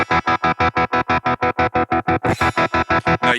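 A distorted electric guitar chopped into rapid, evenly spaced pulses by a slicer effect on a BOSS GT-1000 processor, a loud stuttering on-off rhythm that continues steadily throughout.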